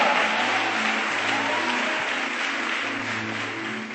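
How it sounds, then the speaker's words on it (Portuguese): Loud, dense applause from a large church congregation fills the whole stretch, a continuous roar of clapping that fades slightly toward the end. "Dê um aplauso a Ele e libere um grito de liberdade"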